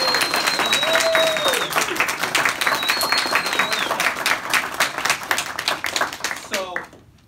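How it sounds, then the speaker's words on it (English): A school audience applauds a teacher receiving an excellence award, with steady dense clapping for about six seconds, some shouts and whistles on top, then fading out abruptly. "Let's give him a round of applause."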